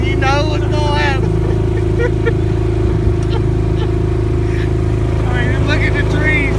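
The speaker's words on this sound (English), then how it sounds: "Now we're going down and the motor's missing and popping." A boat's outboard motor that is missing and popping drones loudly and steadily with a rough, uneven note, with a person talking over it at times.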